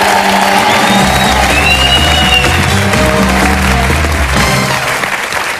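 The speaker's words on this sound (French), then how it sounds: "Mais nous allons applaudir Sonia qui est challenger" A TV game show studio audience applauding a challenger contestant: loud, sustained clapping from a large crowd with a few cheers and whoops, close and continuous, fading slightly at the end.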